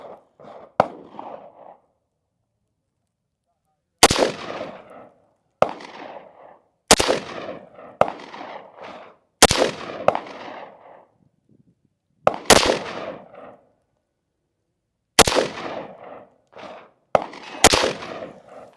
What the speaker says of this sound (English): just put 5 rounds down